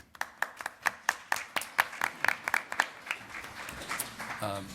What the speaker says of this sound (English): So go ahead and give him a round of applause.